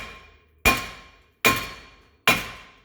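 Three sharp, loud metallic hammer strikes ring out alone at steady intervals as a stuck, rusty brake rotor is whacked off the front hub of a 2018 Hyundai Elantra, each blow decaying with a clanging ring.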